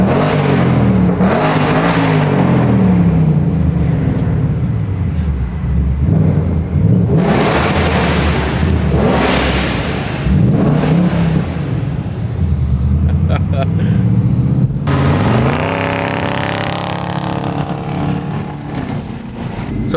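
A Ford Mustang Dark Horse engine revs hard in several loud surging bursts, pitch climbing and falling with each blip, close by, with voices talking and reacting over it.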